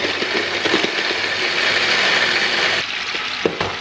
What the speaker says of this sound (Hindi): इनको मैं मिक्सी में क्रश कर